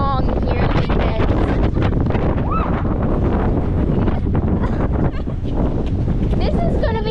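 Strong wind in Big Bend, West Texas, roaring and buffeting the microphone steadily and loudly throughout, with faint voices underneath.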